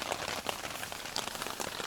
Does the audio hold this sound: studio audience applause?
no